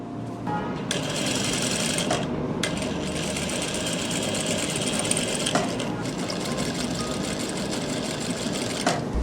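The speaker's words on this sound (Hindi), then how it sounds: "यहाँ से सिलाई लगाते जाना है बिल्कुल नीचे" A sewing machine stitches the elastic waistband of palazzo pants, a loud, steady close-up whir with a few brief pauses as the fabric is adjusted.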